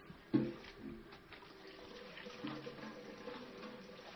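Water runs from a tap as it is fetched, a steady faint splashing stream with a brief louder gush near the start.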